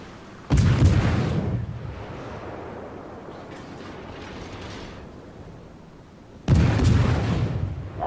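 Naval guns fire in the World of Warships video game, two loud booming salvos roughly six seconds apart, each with a sharp onset followed by a long rumbling decay, with no talking.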